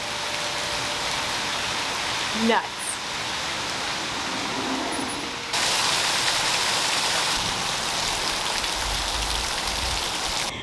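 Heavy rain pours down in a steady, dense hiss throughout, growing slightly louder midway, with a brief thump and faint low rumble near the end.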